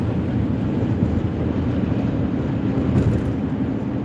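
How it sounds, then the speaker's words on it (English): Steady, heavy wind buffets the microphone during a drive, a constant low roaring rumble with no pauses. "Sorry, it's so windy"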